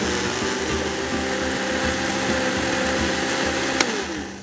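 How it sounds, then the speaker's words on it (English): Blender running continuously as it purées dried chiles with boiling water, a loud, steady motor whir with a rough churning texture and a single sharp tick near the end, no voices. "Blend it till everything is mixed."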